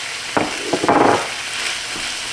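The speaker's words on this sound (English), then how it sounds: "We're going to go ahead and add in our pickles." Chopped dill pickles drop into a sizzling sloppy joe mixture in a hot pan, making a few sharp splashes and a brief burst of frying hiss over a steady sizzle.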